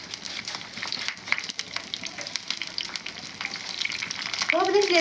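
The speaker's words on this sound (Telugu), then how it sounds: "పోపు దినుసులు వేస్తున్నానండి." Dried red chili and tempering spices frying in hot oil in a pan, a steady close crackling sizzle with scattered pops, no voices.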